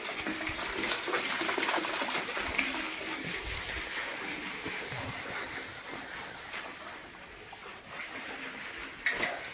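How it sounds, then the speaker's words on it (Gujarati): Water runs from a tap into a nearly full tank, a continuous splashing rush that holds steady from start to finish. "નળ ચાલુ છે, પોણો ટાંકો ભરી ગયો"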